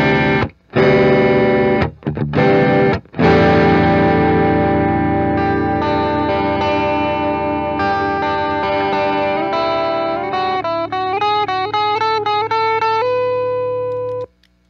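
Electric guitar through a Stax Odrive-1 overdrive pedal with the gain set at noon, loud and saturated, opening with a few chopped chords and then long sustained notes that bend and waver into a lead line.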